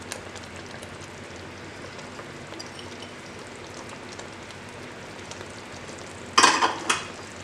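Crushed ginger and garlic fry in oil with onion paste, a soft, steady low sizzle and crackle that runs throughout, broken near the end by a louder scrape and clatter of stirring.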